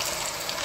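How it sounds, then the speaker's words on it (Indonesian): Eggs frying in a pan give off a steady, close sizzle that crackles briefly at the end. No voices are heard. "Ya, gue lagi goreng telurnya dulu."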